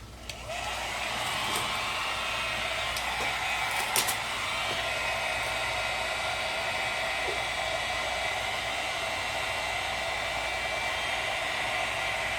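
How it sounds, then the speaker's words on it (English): A heat gun blows a steady, even hiss of hot air while amber tint film is shrunk onto a Ford Focus headlight lens. A few faint clicks and taps sit over the constant drone, and no one speaks. "that's what we're going to use a heat gun for today"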